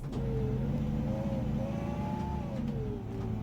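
An Iveco Evadys bus engine drives on in OMSI 2, a steady mid-pitched drone that rises and sags gently as it pulls along, continuous and fairly loud with nobody speaking.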